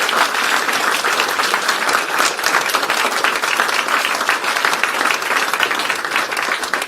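An audience claps loudly and continuously at a public policy speech on social care reform, a dense, close, unbroken wash of applause.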